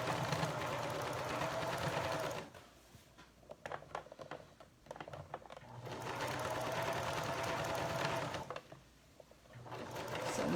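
Sewing machine stitching a primitive doll dress, close and steady in two long runs with a quieter pause of light clicks between them.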